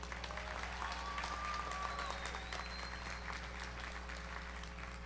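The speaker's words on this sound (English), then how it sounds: "Let's again acknowledge the stirring remarks of our student speaker and give him another round of applause." Applause at a university commencement ceremony for the student speaker, a steady, dense patter of many hands clapping throughout, moderately distant in a large venue with no speech over it.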